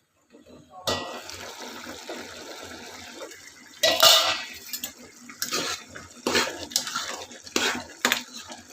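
A lid clatters onto a pot of tomato curry cooked without onions, with a sharp metallic clank and a few lighter knocks of cookware around it, close by.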